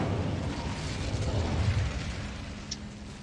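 Incendio fire spell cast in Hogwarts Legacy: a steady, loud burst of roaring, crackling flame noise that holds evenly for about three seconds, with a small sharp pop near the end.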